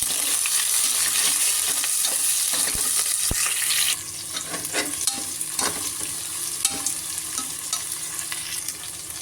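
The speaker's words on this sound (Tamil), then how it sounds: "நல்லா வதங்கணும் வெங்காயம்." Onions and green chillies sauté in hot oil, a loud, dense sizzle that drops somewhat partway through, while a spatula scrapes and taps the pan in scattered strokes nearby.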